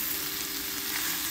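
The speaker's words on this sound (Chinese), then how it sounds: "那这个牛肉呢，它是已经腌好的，在 COS 超市买的。 小火慢煎。" Marinated beef steak sizzles steadily in a pan over low heat at a campsite in the Adelaide Hills, South Australia, a continuous close, even frying hiss with no talking.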